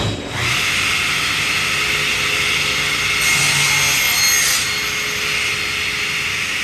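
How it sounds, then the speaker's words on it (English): A table saw cuts wood fed through a miter gauge, giving a loud, steady whirring whine that swells briefly mid-cut and holds close and continuous, with no talking. "we would use our miter gauge. It's nice and secure, and use that to cut it"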